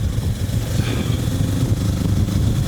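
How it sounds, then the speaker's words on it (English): A Kawasaki Versys 650 motorcycle engine running on the road, a steady mid-pitched drone held close and fairly loud throughout, with no talk over it. "Can you hear the engine? It's absolutely beautiful."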